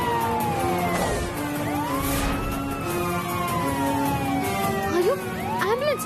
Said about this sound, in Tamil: ஐயோ ஆம்புலன்ஸ்!